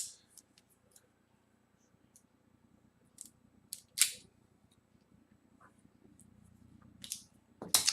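A cutter snips a Sobremesa Short Churchill cigar in a quiet room, making a few sharp, scattered clicks and metallic snips close by.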